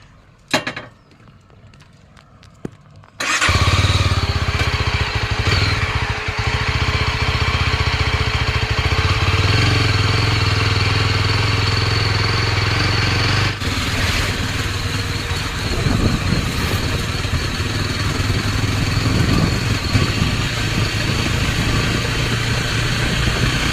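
A motorcycle engine starts after a few quiet seconds and then runs loudly and steadily close by, a rough idling rumble that fills the rest of the recording.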